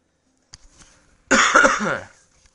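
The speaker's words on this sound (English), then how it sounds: "I've got a cold at the minute, and that is causing me to cough quite a bit" A single loud, raspy cough from a person with a cold, up close, preceded by a few faint clicks and breaths.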